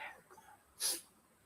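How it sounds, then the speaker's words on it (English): One short, sharp sneeze bursts out after a moment of quiet breathing, close and fairly loud. "sneezing started."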